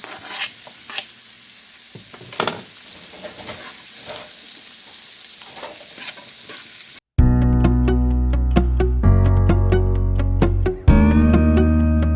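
Prosciutto sizzling in a frying pan with softened vegetables, crackling and spitting up close with scattered scraping stirs for several seconds, before loud music abruptly takes over.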